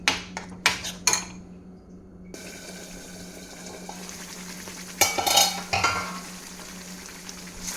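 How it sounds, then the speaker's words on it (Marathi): Masala for butter chicken fries in oil in a pan, with a few sharp utensil clinks and scrapes from stirring over a low, steady sizzle, heard nearby without talk. "हा मसाला छान फ्राय होऊ दे."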